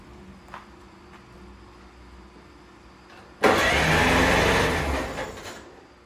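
A Farmall Cub tractor's engine, just re-timed, cranks and catches after three seconds of quiet background, roaring up loudly and close, then running on before easing off slightly toward the end; no one speaks.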